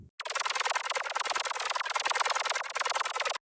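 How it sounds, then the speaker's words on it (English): Mid-bass synth layer from a sample pack track pulses in a fast, even stream of buzzy, bright notes, loud and alone, starting and stopping abruptly. "I have this sort of mid-bass synth layer playing right here"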